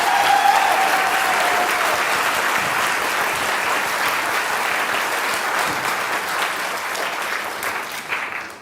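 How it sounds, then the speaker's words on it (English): A large gala crowd at the Writers & Illustrators of the Future 2025 event gives sustained applause, a dense, loud roar of clapping that holds steady before tapering off at the end. "give him another round of applause"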